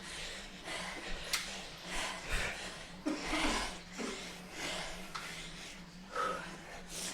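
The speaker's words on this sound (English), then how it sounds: "Sorry for the heavy breathing into the mic." Heavy, close breathing into a podcast microphone, with repeated loud exhales and snorting breaths in an irregular rhythm.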